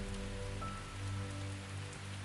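Steady rainfall patters evenly on a surface, a soft continuous hiss with faint low tones beneath, heard alone at low level.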